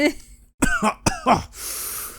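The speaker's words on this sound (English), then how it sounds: "What's going on? I keep coughing." A character in the video game The Hundred Line: Last Defense Academy coughs in a quick close burst of three or four short, dry coughs, followed by a faint airy hiss.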